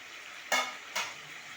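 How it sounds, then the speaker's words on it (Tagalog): Meat frying in oil for crispy adobo, with a constant soft sizzle and two louder bursts of spattering as the pieces are stirred or turned, close by and with no talking. "Habang piniprito ko ang kanyang karne para maging crispy."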